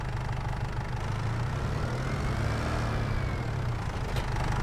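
A tractor engine idles in Farming Simulator 25 with a steady low rumble and even hum, holding constant and fairly faint with no talk over it.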